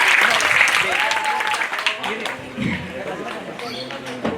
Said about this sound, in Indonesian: Boleh dong tepuk tangannya teman-teman untuk tiga penanya kita pada siang hari ini.